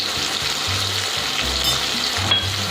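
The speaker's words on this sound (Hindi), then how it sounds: "इसे मैं 2 से 3 मिनट भूनूंगी जिससे हमारे टमाटर भी सॉफ्ट हो जाए" Steady sizzling of tomatoes and ginger garlic paste frying in a pan, a continuous hiss with low scraping stirs throughout.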